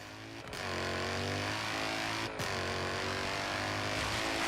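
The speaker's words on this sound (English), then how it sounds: "this motor sounds incredible" An Audi Quattro rallycross car with a 700-horsepower build revs hard in Forza Horizon 3, its engine droning loudly with rising pitch, broken by two brief gear-shift dips.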